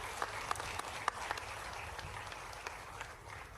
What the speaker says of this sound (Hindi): एक बार पूरे मंच के लिए जोरदार तालियां बजा दें और अपने आप के लिए भी